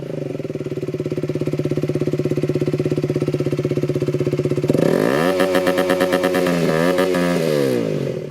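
An Aprilia RS4 125 sport motorcycle engine idles with a steady throbbing exhaust note, then revs up sharply several times, loud and close.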